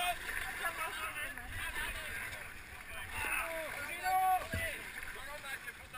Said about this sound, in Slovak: Padlujeme, pravá strana!